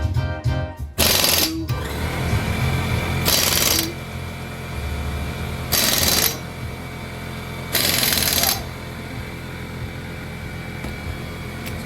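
Impact wrench hammering the wheel lug nuts on a 2006 Chrysler 300, in four loud rattling bursts of about a second each with a steady mechanical hum between them, while a man counts aloud.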